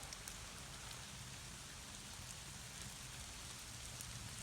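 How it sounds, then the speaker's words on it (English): Steady rain patters on a moss shelter at an overnight solo camp, an even, soft hiss of drops with no pauses, fairly quiet and continuous throughout. "it's raining"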